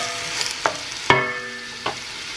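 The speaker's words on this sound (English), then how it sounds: "I'm going to go ahead and add the tripe. Saute that for a couple of minutes." Tripe sautéing in a pan for kare-kare, a Filipino oxtail peanut stew, with a light sizzle under a few distinct utensil clinks and scrapes against the pan, close and moderately quiet.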